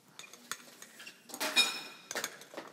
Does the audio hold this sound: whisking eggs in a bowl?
yes